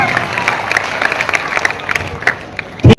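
Audience applause at a mushaira poetry gathering, scattered, uneven clapping from a crowd with individual hand claps standing out, and a brief loud burst near the end.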